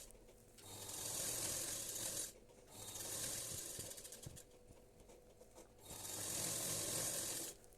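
Domestic sewing machine stitching a hem on a blouse, its rapid mechanical whirring running in three bursts separated by short pauses, close and fairly quiet with no talk.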